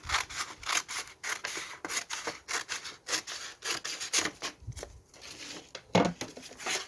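Scissors cutting through a paper bag, with a steady run of close, dry snipping and rubbing strokes that continues for several seconds and has no talking.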